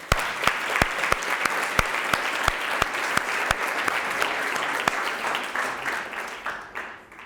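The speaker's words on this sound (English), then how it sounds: "let's go again and give him another round of applause because you did amazing" An audience applauds after a first presentation, dense loud clapping with sharp individual claps standing out, sustained for several seconds before fading at the end.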